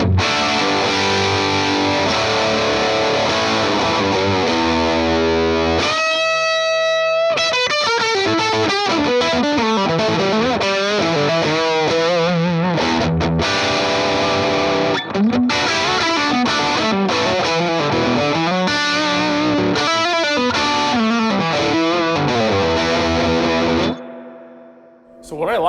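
Electric guitar played through a Vox AC15C1 amp pushed by a boost pedal produces a loud, gritty, continuous stream of riffs and chords for about 25 seconds, then fades out near the end.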